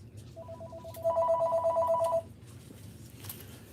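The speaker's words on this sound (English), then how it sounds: "Okay, the telephone is ringing." A telephone rings in a couple of electronic trilling bursts, fairly close and clear over a low room hum, with no one talking.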